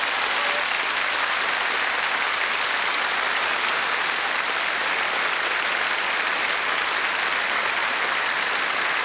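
A TV studio audience at a New Year's Eve show in Linz breaks into sustained, loud applause, a steady wash of clapping that holds evenly with no voices over it.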